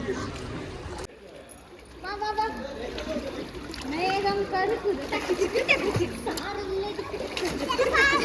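Family splashing in a swimming pool, choppy water splashes rising and falling throughout with children's voices and chatter over them, fairly close and lively.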